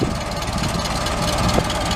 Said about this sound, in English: The engine is 4-cylinder, 20 horsepower. It runs on regular gas